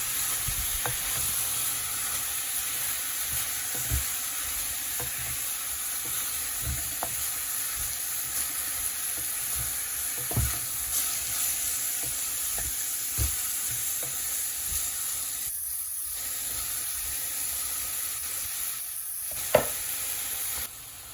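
Bitter gourd (karela) and small-cut potatoes fry in a pan, a steady sizzle broken by repeated scraping and clicking strokes of a stirring spoon, close and fairly loud, with no one talking.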